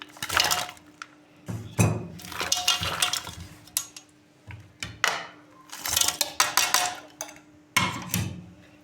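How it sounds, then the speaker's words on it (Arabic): Cubed potatoes tumble into a baking tray in several bursts of clattering, knocking thuds, separated by short pauses, heard close up with no talking. "معايا هنا صينيه هضيف فيها البطاطس"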